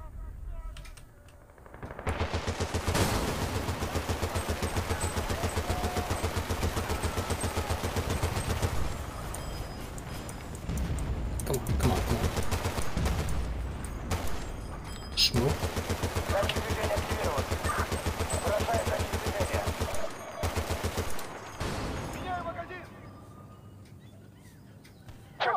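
Sustained automatic gunfire in the game Battlefield Bad Company 2, loud and dense with rapid bursts running almost continuously for about twenty seconds, broken by brief pauses and fading toward the end.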